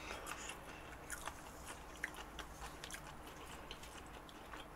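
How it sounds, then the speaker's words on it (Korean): Crisp, crunchy biting and chewing of food, likely sushi, during a close-up eating show, with a dense run of small crunches and sharper bites repeating steadily at close range, no talking. "이 아삭아삭 아삭아삭 씹히는 느낌."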